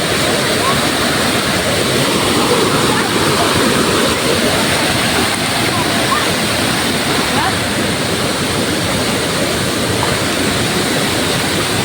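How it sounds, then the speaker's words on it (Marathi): Heavy rain pours over a flooded village street while someone wades through knee-deep rainwater, a dense, steady roar of rain and splashing water filling the whole scene, with a voice talking intermittently over it. "आता मी पाण्यातून जातो आहे मित्रांनो"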